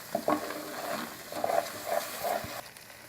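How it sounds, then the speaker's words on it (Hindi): A spoon stirs and roasts a barfi mixture in a pan, giving soft scraping strokes over a low sizzle, close and moderately loud, with a brief pause near the end. "अब ये जो चम्मच है इसको मैं निकाल दूँगी और दूसरे चम्मच के साथ इसकी अच्छी तरह बुनाई करूँगी।"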